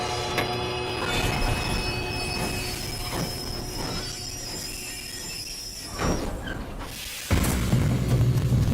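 A train running on rails in Red Dead Redemption 2, with metal wheels squealing loudly and continuously over a steady rumble and rattle, building to a heavier roar near the end.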